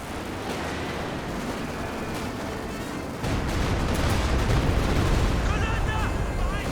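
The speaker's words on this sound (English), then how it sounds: "Grenade's been thrown there." A grenade goes off amid a Company of Heroes 2 battle, a sudden louder burst at mid-clip. It lands over constant distant gunfire and explosions, with voices running underneath the combat din.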